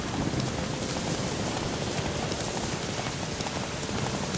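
Steady, dense rainfall pours in The Witcher 3 during a horse race, a loud continuous hiss of drops hitting surfaces with no break.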